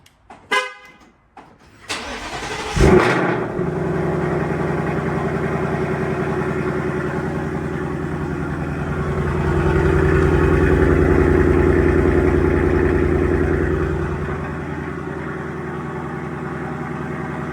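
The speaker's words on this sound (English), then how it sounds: "I wanted to give y'all a true cold start after we installed the Corsa double H pipe" A Ford Mustang RTR S650 with a Corsa double H-pipe exhaust cold starts: the engine cranks with a short whine, then catches and roars into a loud, deep idle that swells and settles, throaty exhaust rumbling throughout.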